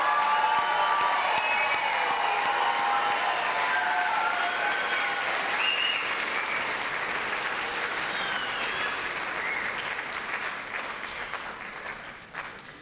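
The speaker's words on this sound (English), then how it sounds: "one more round of applause for all of the nursing graduates" A crowd applauds nursing graduates at a college pinning ceremony, sustained clapping with some cheering that stays loud for many seconds before tapering off near the end, no speech over it.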